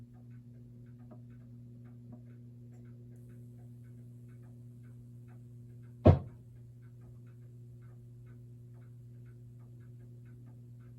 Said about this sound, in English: I hear a hum.